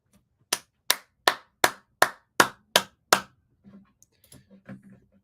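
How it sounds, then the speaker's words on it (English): Eight sharp, evenly spaced hand claps ring out close and clear, followed by a few faint soft knocks and rustles in a quiet room. "A bit of claps for an incredible performance from the Mets"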